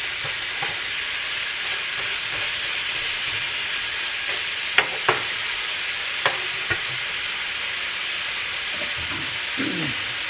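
Egg roll in a bowl filling cooking in a skillet, a steady hissing sizzle with a few faint clicks and scrapes of a utensil, close and continuous with no talking.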